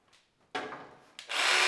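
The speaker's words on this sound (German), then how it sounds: "benutzt die Stichsäge, da er diesen Schnitt im Inneren des Bretts machen muss" A jigsaw cuts inside a wooden board during parquet flooring work, with a faint start, a short rasping burst, then louder steady sawing, close by.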